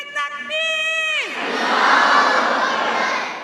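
A large crowd at a Jalsa Salana gathering in Germany, with a raised voice giving way to a broad, loud roar of many voices that swells and sustains for a few seconds.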